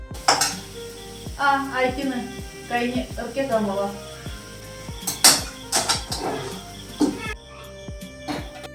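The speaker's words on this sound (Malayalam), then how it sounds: "പാത്രം കഴുകലൊക്കെ കഴിഞ്ഞോ" Dishes, pots and pans clink and clatter during household washing, scattered metallic knocks and rattles around a voice talking, with a few louder clangs near the end.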